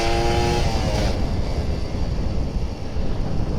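A Kawasaki Ninja RR 150 two-stroke motorcycle accelerating while touring: a brief rising engine whine at the start, then strong rumbling wind buffeting that dominates the rest, recorded close from the rider's position.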